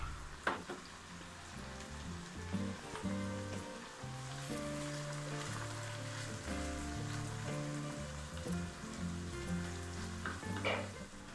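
Chicken frying in a pan on low heat with vinegar added, a steady soft sizzle and crackle throughout with occasional louder pops, fairly quiet and close, with no voices.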